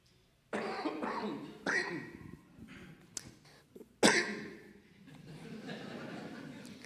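A man suppresses and then lets out several bursts of coughing and throat clearing, close and fairly loud, with irregular breaks between the bursts.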